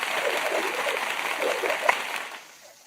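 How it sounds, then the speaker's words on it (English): A steady round of applause, a dense wash of clapping that holds evenly for over two seconds and then tapers off, with no voices standing out. "Yeah, let me give you a round of applause."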